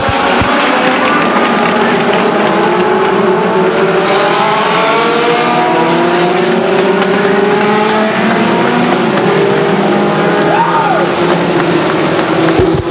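Legends race cars circling Stockton 99 Speedway during a yellow flag caution, with steady loud engine drone and overlapping motors throughout, under continuous commentary.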